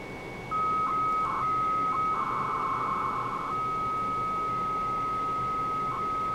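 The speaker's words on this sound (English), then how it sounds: "now you will hear the device pick up the phone line and actually send the page using the TAP protocol" Steady electronic tone on a phone line with bursts of warbling modem-like data chirps as a Motorola AlphaMate sends an alphanumeric page using the TAP protocol, continuous and fairly loud throughout.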